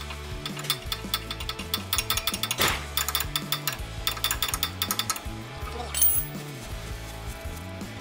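A ratchet wrench clicks in quick, close bursts while working stuck 17 mm and 14 mm rear brake caliper bolts on a 2012 Chevy Equinox, with occasional metallic clinks between the rhythmic strokes.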